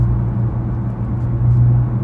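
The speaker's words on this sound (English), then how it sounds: "Now you can kind of hear the engine's running now." A Porsche Panamera S E-Hybrid with custom exhaust idles, its engine giving a steady low hum and rumble that swells slightly near the end, with no talking.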